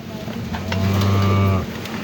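A cow on a small village dairy farm gives one loud, drawn-out moo up close, rising and holding for about a second before it stops, with a quiet farmyard around it.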